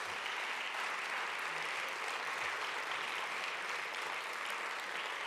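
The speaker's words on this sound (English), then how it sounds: "give them a big round of applause" A crowd at the European Green Party's extended congress in Lyon applauds, a dense, continuous wash of clapping at even loudness from start to end.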